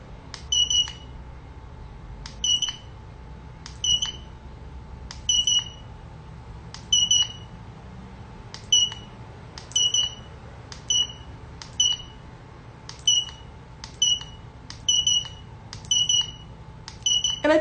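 Short, high electronic beeps from a handheld skin treatment device for dark spots repeat in quick pairs and bursts at uneven intervals, with no talking.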